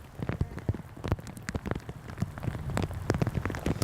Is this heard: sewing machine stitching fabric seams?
no